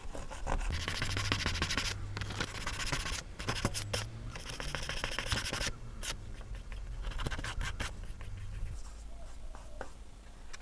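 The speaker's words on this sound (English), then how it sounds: "you want to scuff it up with some sandpaper" Sandpaper scuffing a car body panel in budget paint and body work, a steady close rasping scratch with brief pauses, carrying on throughout with no talking.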